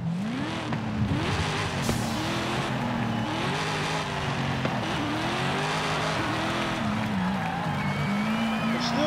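A loud Dodge Demon engine in the video game Forza Horizon 5 roars steadily with revving and gear shifts, and a voice talks over it now and then.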